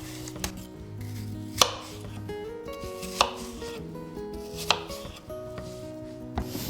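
A knife chops ingredients roughly into one-centimetre cubes for a cheesecake, a few sharp, evenly spaced blade strikes against a board about every second and a half, close and clear, with quiet background music and no talking.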